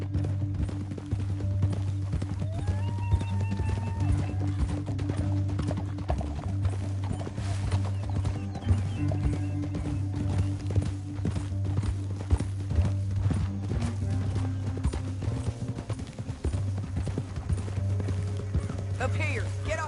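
Rhythmic clip-clop of horse hooves in the Red Dead Redemption 2 video game, steady trotting footfalls under a low droning music bed, with occasional faint whinnies.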